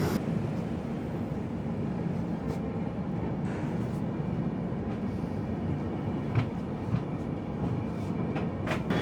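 The 20504 New Delhi–Dibrugarh Rajdhani Express rumbles along at speed, a steady, unbroken low roar of wheels and carriage noise with faint rattles and squeaks scattered over it.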